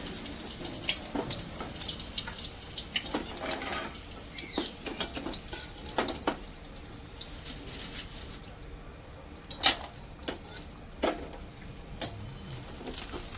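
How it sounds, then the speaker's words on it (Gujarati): Small pipe-shaped bhungla snacks frying in hot oil in a pan, a soft steady bubbling crackle with scattered sharper pops, close and fairly quiet, heard alone. "તો ભૂંગળા કરી લઈએ ફ્રાય"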